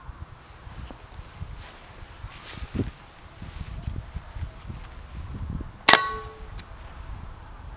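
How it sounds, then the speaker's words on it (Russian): Quiet outdoor rustling, then a single sharp crack of a 6.35 mm PCP air rifle shot hitting a large orange, with a brief ringing tail, followed by faint movement sounds. "Давайте первый выстрел сделаем с винтовки «Атаман» по крупному апельсину."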